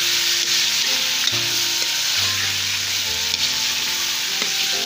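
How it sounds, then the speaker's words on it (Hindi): Chicken frying and being stirred in hot oil for a Pakistani-style matar chicken gravy, a steady close sizzle throughout with occasional scraping and stirring knocks, no voices. "चिकन की भुनाई करेंगे।"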